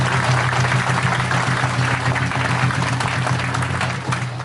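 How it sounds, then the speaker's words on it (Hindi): An audience at a Hindi-language conference claps for the dancers and anchors, a steady, dense wash of applause filling a hall with a constant low hum beneath it. "एक बार इनके लिए भी तालियां बजाई दो"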